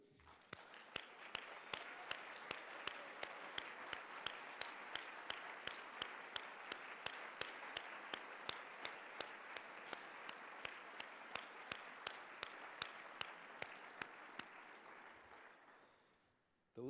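An audience at a conference awards breakfast applauds orchestra volunteers with steady, dense clapping that holds strong for about fifteen seconds before fading out quickly, with no voices over it.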